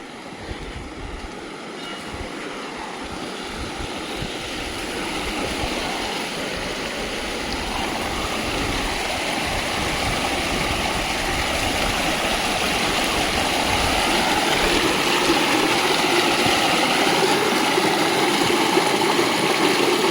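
Icy meltwater from the Siachen Glacier at about 12,000 feet rushes past in a continuous, loud, steady roar that grows slightly fuller as it goes on.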